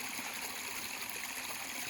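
Water from an artesian well trickles slowly downhill over a mostly clay surface, a steady, soft, continuous wash with no breaks, fairly faint and heard alone.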